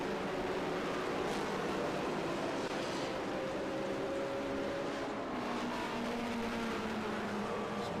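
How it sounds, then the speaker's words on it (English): Porsche race cars roaring down a long straightaway during an SVRA vintage race at Indianapolis, a dense continuous engine drone with rising and falling pitch from passing cars, loud and unbroken. "Now watch these Porsches behind him, because there's a long straightaway."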